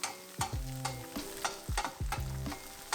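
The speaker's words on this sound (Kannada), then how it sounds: "ಇದನ್ನೊಂದು ಫ್ಯೂ ಸೆಕೆಂಡ್ಸ್ ಅಷ್ಟೇ ಫ್ರೈ ಮಾಡಿ" Ginger frying in hot oil in a pan for Chinese-style garlic veg noodles, a steady close sizzle with several scraping stirs of a spatula, no voices.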